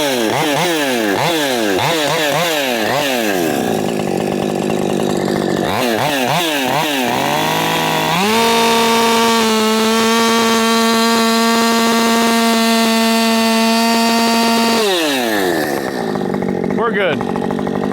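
Gasoline chainsaw, a Darkness 550XP, revving in bursts then held at steady high throttle during a test cut into wood, loud and close with harmonic engine whine, dropping back to idle at the end.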